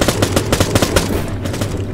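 Rapid bursts of gunfire from a WWII-era Arma 3 battle, loud and close, with shots cracking in quick succession for most of the stretch before thinning toward the end.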